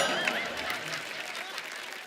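A studio audience at a comedy show applauds to welcome a guest, a dense burst of clapping and cheering with a whistle-like cry, loud and sustained throughout.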